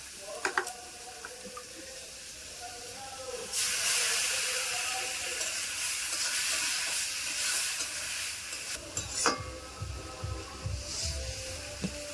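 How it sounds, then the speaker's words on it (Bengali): Water poured into hot spiced oil in a pan for a soybean curry sets off a loud, broad sizzling hiss lasting several seconds, after a few faint kitchen clinks, then fading into bubbling and light clatter. "মশলা থেকে তো তেল ছেড়ে দিয়েছে এবারে জল দেবো"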